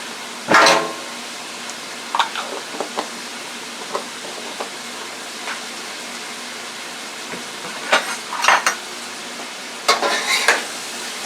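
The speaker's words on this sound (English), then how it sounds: "Let's mix that garlic paste in so that it gets incorporated on the chicken and onions." A low, steady sizzle of frying chicken and onions runs throughout, broken by scattered scraping and clinking strokes of a utensil stirring garlic paste into the pan.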